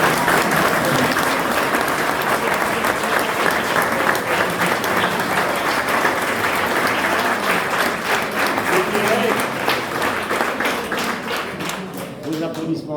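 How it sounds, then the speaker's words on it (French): A crowd at a twinning oath-signing ceremony between Villennes-sur-Seine and Largo gives warm, steady applause, dense and loud throughout before thinning slightly at the end. "vos applaudissements chaleureux pour les deux seuls qui ont travaillé ce matin"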